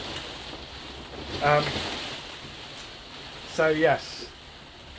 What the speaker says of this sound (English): I can hear that rain coming back. It's absolutely lashing down.